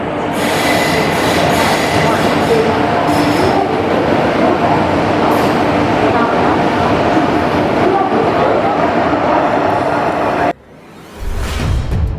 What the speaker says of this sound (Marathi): लोणावळा अतिशय महत्त्वाचं स्टेशन आहे तुम्हाला दिसते